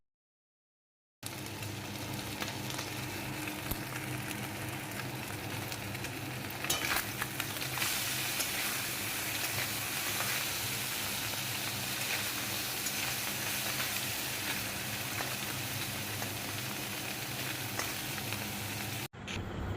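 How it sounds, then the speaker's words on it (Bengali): Fish fry in hot oil in a pan, giving a steady, close, crackling sizzle that runs unbroken for nearly twenty seconds after a brief silent start. "অনেকটা মাছই দেখো ভাজা হয়ে গেছে আর কয়েকটা একটু কড়কড়ে করে ভাজছি"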